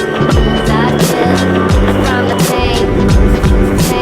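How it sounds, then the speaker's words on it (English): Boosted electric skateboard rolling over an icy road, a loud continuous rumble of wheels with rising and falling motor whine and scraping grit, close up throughout. "I like riding my boosted board a lot"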